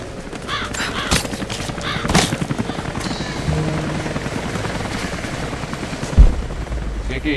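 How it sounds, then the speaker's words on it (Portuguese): A helicopter in Rise of the Tomb Raider gives a steady, rapid rotor chop under game noise throughout, with a sharp thump near the end. "O que é isso, um helicóptero?"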